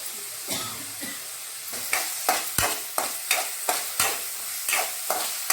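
Tomato frying in a pan for a crab curry, a steady sizzle broken by regular scraping strokes of a spoon stirring, close and moderately loud, with no one talking.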